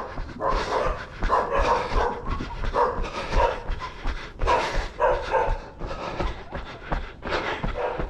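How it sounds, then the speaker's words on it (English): Many dogs bark together in an enclosed space, a dense, overlapping chorus of barks, yips and some whimpering that continues without pause throughout. "There's a lot of dogs in here."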